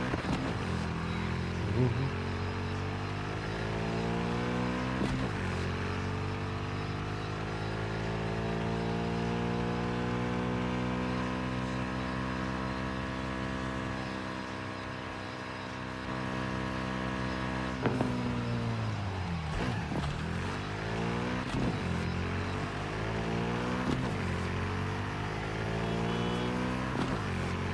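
A video game vehicle engine climbs steadily to high RPM and holds a rising, tonal whine for a long stretch before dropping and revving again. A voice gives a brief exclamation.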